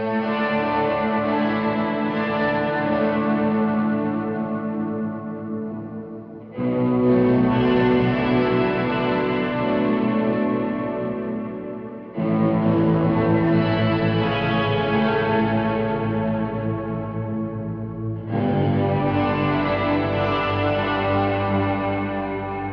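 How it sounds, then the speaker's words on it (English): An electric worship guitar through delay and modulated reverb plays four long, sustained chords, each ringing out and smearing into a wash of echoes before the next one strikes. It is loud, with no talking over it. "the sound's a little bit delayed, so it's processing it and putting it out"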